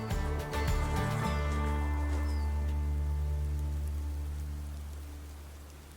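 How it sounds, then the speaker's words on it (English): Steady summer rain pattering down across a garden, a continuous close hiss of drops that slowly fades lower over several seconds, with a low steady hum beneath. "and now we've got rain"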